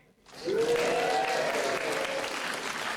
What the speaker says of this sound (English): Everyone give Tim a big cheer.